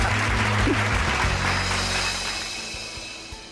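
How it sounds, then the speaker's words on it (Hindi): Clapping at a Dussehra ground during a Ravan burning event: a steady wash of many hands applauding together, fairly loud at first and slowly fading over a few seconds, with a low tonal hum running beneath. "ताली बजाने का, ताली बजेगा।"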